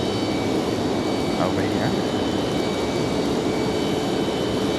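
An Airbus A321 jet airliner at Raleigh-Durham International Airport gives off a steady broadband engine roar from a distance, with voices talking over it.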